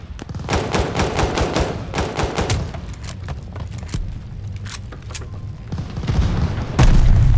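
Heavy gunfire and grenade blasts in the Call of Duty Vanguard video game: rapid bursts of automatic shots crackle for several seconds, then scattered single shots, ending in a loud, close booming explosion.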